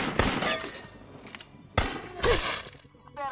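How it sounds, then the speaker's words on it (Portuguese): Gunfire erupts in a dubbed action film, two sharp loud blasts with crackling, shattering tails, about a second and a half apart, close and harsh. "Eu tô ouvindo tiros."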